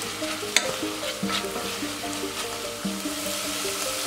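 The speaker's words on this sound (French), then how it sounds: "on laisse bien transpirer jusqu'à l'évaporation de l'eau de végétation" Chanterelle mushrooms sweat in a pan for a veal kidney dish, giving a steady close sizzle and frying hiss with stirring scrapes and clinks throughout, no voices.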